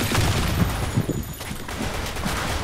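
Rapid gunfire in the shooter video game Blackshot, dense continuous bursts of shots throughout at steady loudness with no talk.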